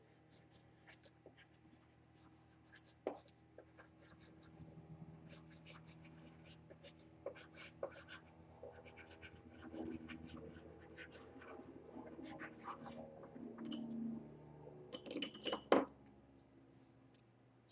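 Pen or marker writing out a title across a geometry diagram of a trapezoid: soft, scratchy strokes in irregular bursts, quiet and close, with a few sharper taps near the end and a voice talking faintly underneath.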